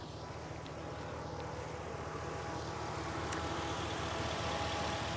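A Farmall Super C tractor's starter cranks the engine with a steady, even droning rumble that runs the whole time, fairly loud and unbroken, with no voices.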